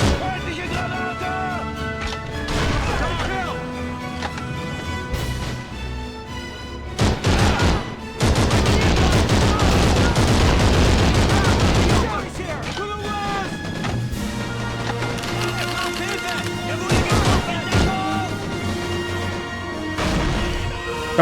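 Heavy gunfire from Call of Duty 3 on PS2 during a Canadian town-clearing mission: dense, loud bursts of shots and booms that swell into a sustained barrage midway, then continue in scattered volleys.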